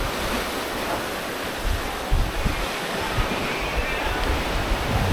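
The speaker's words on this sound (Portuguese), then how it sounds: "o vento, que acaba fazendo com que as ondas se tornem mais frequentes e vai agitando o leito do mar" Ocean waves wash continuously onto a Florianópolis beach on a windy morning, a loud, steady roar of surf and wind noise with occasional thumps, with no talking.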